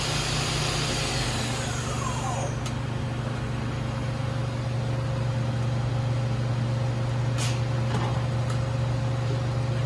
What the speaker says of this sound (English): Spindle's extremely quiet